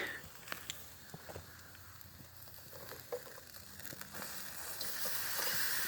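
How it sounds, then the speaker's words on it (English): Lamb chops sizzle on a homemade portable wood-fired grill outdoors, a soft steady hiss with scattered crackles and pops that grows slightly louder toward the end, while a voice talks nearby. "Wow, listen to that sizzle."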